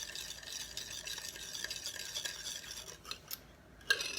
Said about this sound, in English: I want to mix this until the sugar is all dissolved